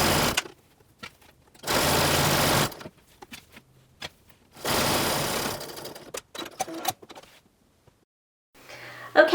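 Home sewing machine stitching sequin fabric at a 2.5 mm stitch length, heard in two steady whirring runs of about a second each, separated by quiet pauses and small handling clicks.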